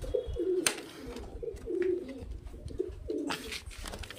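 High-flying breed pigeons, including Madrasi pigeons, coo repeatedly in soft, low, rolling calls close by, with a few sharp knocks and rustles in between.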